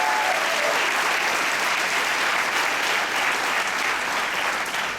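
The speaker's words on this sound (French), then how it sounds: "Il mérite une bonne main d'applaudissement." Continuous dense applause from a large audience at the opening of a Black film festival in Montreal, steady and loud for the whole stretch with no voices over it.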